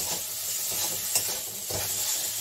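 Potato and paneer pieces sizzle steadily in a frying pan while a spoon stirs and scrapes through them in short strokes, close and continuous with no voices.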